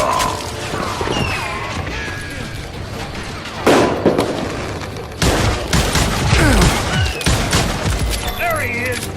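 Bursts of gunfire from the Western shooter Call of Juarez Gunslinger crack out amid busy game action, with loud shots near 4 and 5 seconds over shouting voices and a rumbling backdrop.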